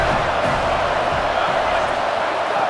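A packed stadium crowd roaring steadily during a Wisconsin at Penn State college football video game, a loud, continuous wall of cheering and shouts with no break.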